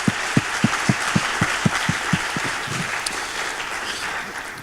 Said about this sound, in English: I'd like you to welcome me in a round of applause to the Scalapeño team